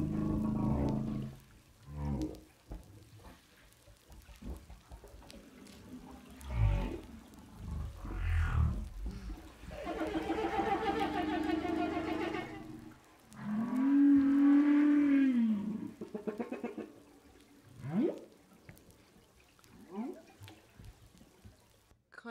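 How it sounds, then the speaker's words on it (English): Humpback whale calls: long moaning and whooping tones rising and falling, some echoing with reverb, spaced by brief pauses over a watery hiss. "they're actually of a humpback whale, so it's cool humpback whale sounds"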